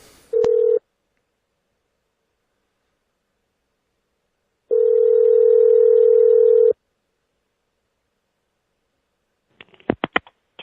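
Telephone tones on a call to a direct dial number: a short steady beep, then a long flat tone after a silent pause, then a quick cluster of dialing tone bursts at the end.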